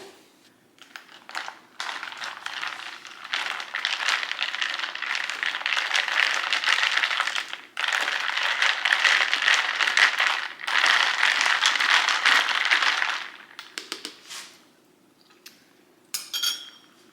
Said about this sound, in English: Now we need to do a little mixing.